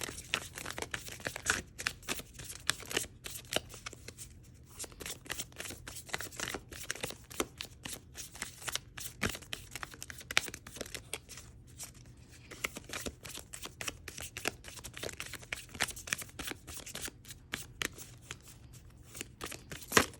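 Tarot cards are shuffled by hand for a reading, a close, continuous run of quick riffling flicks and soft slaps lasting about twenty seconds with brief pauses, fairly quiet and with no talking.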